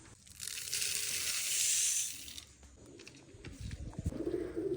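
Pigeons coo softly nearby after a burst of rustling, gritty noise, their low murmuring calls repeating close by.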